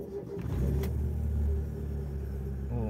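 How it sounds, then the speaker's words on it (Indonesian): A Mazda Familia Lantis 323 engine catching and settling into a smooth, steady idle, a low humming rumble with a brief rise at the start, fairly quiet and close. "Kita hidupkan mesinnya ya."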